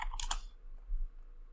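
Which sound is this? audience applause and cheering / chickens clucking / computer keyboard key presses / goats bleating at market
computer keyboard key presses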